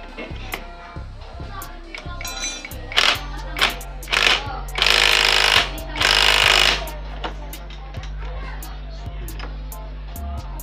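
An impact wrench tightens the drive face pulley nut on a scooter CVT during a clutch lining and spring replacement, firing in several loud, close hammering bursts between pauses and a low mechanical hum, with someone speaking around them.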